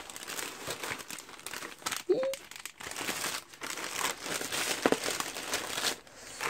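Kraft packing paper is crumpled and crinkled close up while a parcel is unpacked, giving irregular papery rustles and crunches throughout, with brief speech mixed in.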